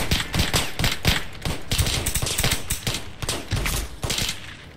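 Revolver gunfire in a Roblox game: a rapid series of loud, punchy shots in quick bursts, one close on another, with no talking over it.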